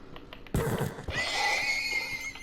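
A horse in the Minecraft video game lets out a loud, drawn-out neigh after a sharp impact, the whinny ringing for over a second in the foreground.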